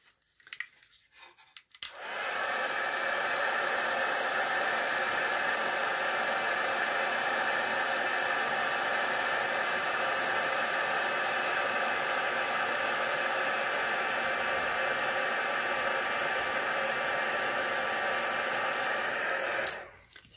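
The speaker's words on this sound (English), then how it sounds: "So I'm just going to heat set that so I won't be on it." Heat tool used to heat-set ink on a Stampin' Up daisy card, a steady loud blowing whir running continuously for about eighteen seconds after a click on, then switching off.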